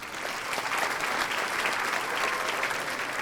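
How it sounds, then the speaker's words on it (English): Audience applause at a multiple sclerosis symposium, a steady wash of clapping from a sizable crowd that holds at an even level for a few seconds. "Let's give Michael a round of applause."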